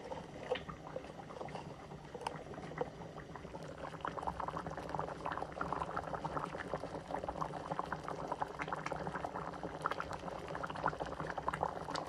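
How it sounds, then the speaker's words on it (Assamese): A pot of paneer vegetable curry with carrot and potato bubbles steadily as it boils, with soft popping and gurgling that stays close and fairly quiet throughout. "আৰু এয়া উতলি আছে।"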